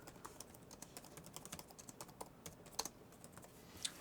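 Typing on the aluminium keyboard of an HP OmniBook 5 16 laptop, a quiet run of soft, irregular key clicks with a couple of sharper taps, recorded close but at low level with no talk.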